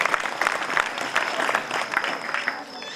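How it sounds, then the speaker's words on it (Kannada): A devotional gathering at a religious discourse breaks into dense, sustained applause, many hands clapping together fairly close and loud for a few seconds before easing off. "ಅವರೆಲ್ಲರಿಗೆ ತಮ್ಮ ಜೋರಾದ ಭಕ್ತಿ ಚಪ್ಪಾಳೆಯನ್ನು ಸಮರ್ಪಣೆ ಮಾಡೋಣ."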